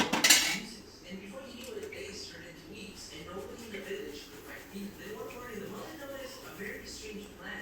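A spoon scrapes and clinks against a metal pot in steady stirring strokes as semolina is mixed into cooked vegetables, close by, with a louder clank at the start.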